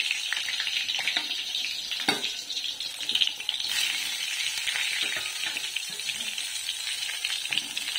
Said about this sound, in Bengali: একটু বেগুনটা ভেজে নিই।